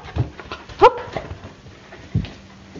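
A dog whimpers and yips in short, close bursts, with a brief whine in the middle and a couple of soft low grunts, between quiet pauses indoors.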